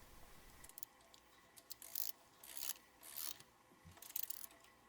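Puller bolt being tightened on an AC compressor pulley hub, giving quiet intermittent metallic ratcheting and grinding bursts over several seconds with no talk.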